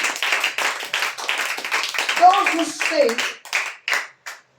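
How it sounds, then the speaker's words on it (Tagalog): A church congregation claps along in a steady rhythm during worship, the hand claps close and regular while a preacher's voice talks over them. "Palakpak sa Panginoon."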